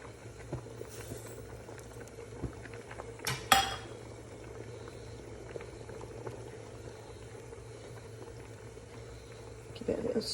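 Milk and grated carrot for gajar ka halwa bubble and simmer in a pot while sugar is stirred in, a low steady boil with metal spoon scrapes and clinks against the pan, and a person speaking over it.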